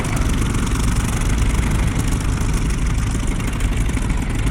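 A steady I-16 aircraft engine drone in the DCS flight simulator idles continuously, loud and even, with a rough low rumble and no voices.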